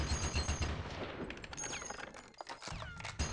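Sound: gunfire from Conker's Bad Fur Day video game

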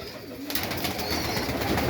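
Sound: pigeons in a dovecote

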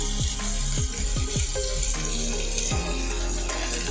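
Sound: onion and tomato sautéing in a pan

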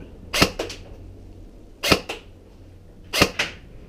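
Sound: airsoft gun firing a BB through a chronograph

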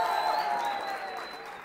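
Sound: audience applause for the school team

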